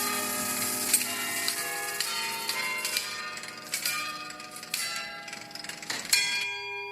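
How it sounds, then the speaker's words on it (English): Carillon bells ringing from the top of medieval St. Rumbold's Tower in Mechelen, Flanders, a melody of bright metallic strikes with long shimmering decay, heard from a distance and fairly faint, no talking. "A carillon is a musical instrument which involves ringing bells by means of a keyboard"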